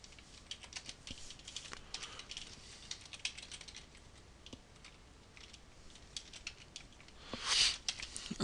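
Quiet, rapid tapping on a computer keyboard while code is typed, an irregular patter of soft key clicks that continues throughout.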